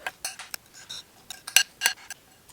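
A utensil mixing taco seasoning with added cumin in a bowl, light irregular scrapes and clinks of metal on the dish, close and fairly quiet.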